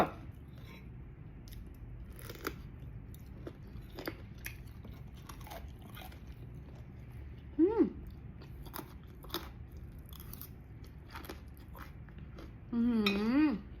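Luk nieng nok, a crisp Thai bean, crunches under close bites and chewing, with scattered small crackles over a quiet background and a couple of brief hummed vocal sounds.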